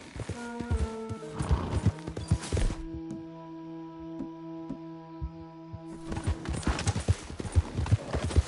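A horse gallops in Red Dead Redemption 2, with loud rapid clip-clop hoofbeats and a whinny, over steady game music in the middle.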